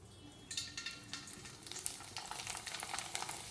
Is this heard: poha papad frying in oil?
yes